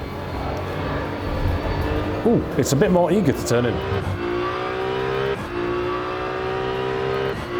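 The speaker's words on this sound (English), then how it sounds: "Oh, very different downshift noise." A racing car engine in the sim racing game Rennsport blips and drops through several gears in quick rising-falling sweeps under hard braking, then settles into a steady drone while someone talks over it.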